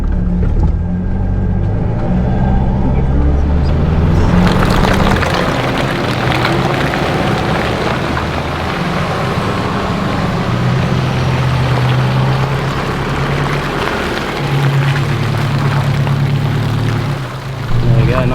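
A 4WD pushes through deep mud in first gear low range at 2,500–3,000 revs in a wet state forest, a loud sustained engine roar mixed with sloshing water and splashing that swells and shifts in pitch throughout.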